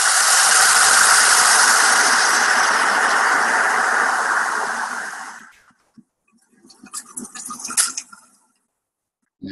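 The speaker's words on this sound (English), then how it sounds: "If you were to put your ear to the base of your kettle and turn it on," Electric kettle heard up close through its base as it heats, a loud broadband hiss and rumble that fades out after about five seconds, then gives way to scattered crackles and ticks before falling quiet.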